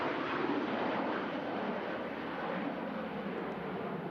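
An aircraft at Manchester Airport in strong winds gives a broad, steady roar that stays loud and even throughout, with no voices.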